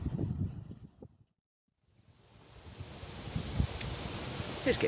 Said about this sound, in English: It's getting fair and breezy now